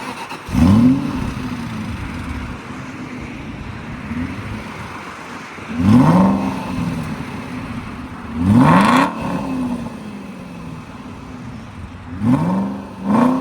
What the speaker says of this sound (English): And I'll actually listen to the exhaust.